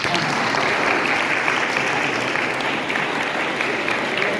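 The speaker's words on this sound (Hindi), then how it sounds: "तालियां मारो।" An audience at a Rajasthan High Court welcome event for a social secretary claps loudly and steadily, a dense wash of applause from a nearby crowd.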